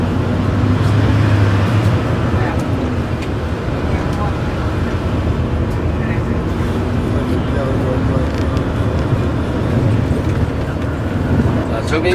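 Rush hour traffic at a busy Ho Chi Minh City intersection makes a dense, constant rumble of engines and road noise, with a tour guide's voice talking over it.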